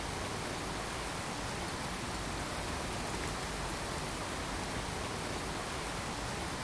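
Steady, dense rain in the Fallout 4 video game forms an unbroken wash of noise, loud and close, with no speech and no pauses.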